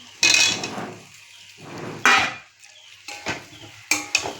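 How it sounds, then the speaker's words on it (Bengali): Mutton cooking in a pot, with several loud metallic clanks and scrapes of a utensil against the pot at irregular intervals and quieter rustling between them. "এই দেখো বন্ধুরা, আমার আজকে মটন রান্না হচ্ছে।"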